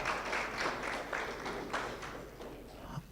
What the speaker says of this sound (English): Let us appreciate them with a round of applause.